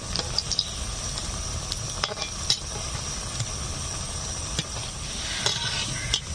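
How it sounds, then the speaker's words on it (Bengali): Sabudana pakoras frying in hot oil give a steady, close sizzle and bubbling hiss, dotted with small pops and the occasional clink of a utensil. "দেখুন কি সুন্দরভাবে ভাজা হচ্ছে আর আস্তে আস্তে ফুলে উঠছে।"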